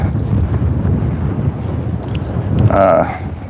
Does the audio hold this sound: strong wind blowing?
yes